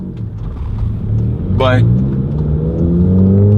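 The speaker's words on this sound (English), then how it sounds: "let's go into second gear, third gear, fourth gear, fifth gear." A Volkswagen MK7 GTI fitted with a stage 4 clutch kit pulls hard, its engine note climbing in a loud, close drone with a brief sharp sweep, while someone speaks over it.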